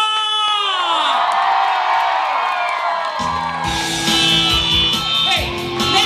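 A crowd at a Filipino fiesta show in Vienna cheers, shouts and whoops for the comedy duo Super Tekla and Donita Nose, a loud, steady roar of voices that swells and carries on throughout.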